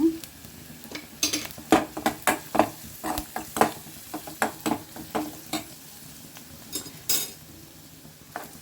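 Onions and vegetables sautéing in a pan while being stirred, with a steady soft sizzle punctuated by frequent sharp clinks and scrapes of a utensil against the pan, close and moderately loud, no talking.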